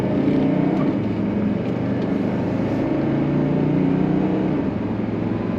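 A 1979 Mercedes-Benz 300SD W116 with a three-speed transmission drones steadily from inside the cabin as it gets on the throttle, a low continuous engine hum with no talk.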